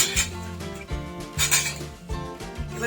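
A spoon clinks and scrapes rhythmically against a cooking pot as sour lentil dal made with mango is stirred, producing repeated close metallic taps over a steady background of music.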